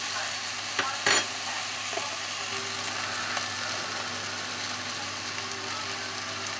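Onions frying in a pan for chicken curry give a soft, steady sizzle close by, with a couple of brief clinks of a utensil near the start and no talking.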